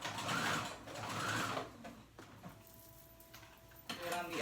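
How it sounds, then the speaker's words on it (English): A sewing machine zigzag-stitches a folded quarter-inch hem on swimsuit fabric, its motor buzzing in two steady runs at the start and then softer, with faint rattling and clicks. "fold over 1/4 of an inch, and sew it together. You can do a zigzag stitch"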